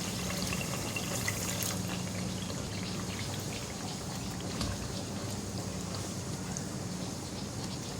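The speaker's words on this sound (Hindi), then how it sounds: "2-3 टेबलस्पून में इसमें पानी डाल रही हूँ।" Two to three tablespoons of water are poured into frying masala for beef paya in a pan, giving a steady hissing, splashing sizzle that stays constant throughout with no talk.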